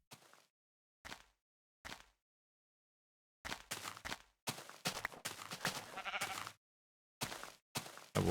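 Sheep bleat in a video game: short bleats, then a longer run of several close, clear calls, with silent gaps between them.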